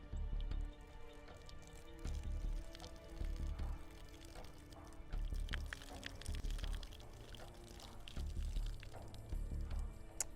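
Bottled water poured over a rifle optic on an outdoor range, a steady splashing, trickling wash with dripping running the full length, fairly close, with only faint background voice.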